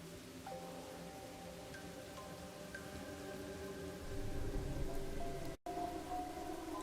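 Steady rain in the detective video game Master Detective Archives: Rain Code, set in a village, a constant soft hiss of falling water with faint low rumbles beneath, quiet and even throughout, briefly cut out near the end, no voices.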